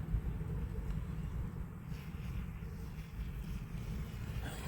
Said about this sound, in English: And it's windy. I can hear the wind.